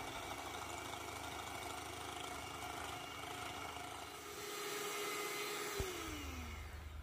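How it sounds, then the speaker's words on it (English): An electric hand mixer beats egg whites with a tablespoon of sugar toward stiff peaks, giving a steady, close, droning motor whir throughout, with a brief pitch drop near the end. "With my electric mixer, I'm going to beat these until stiff peaks."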